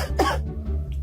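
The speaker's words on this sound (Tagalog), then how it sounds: "Umubo ka." A single sharp cough close by, a short harsh burst followed by a quieter rasp over a low steady hum.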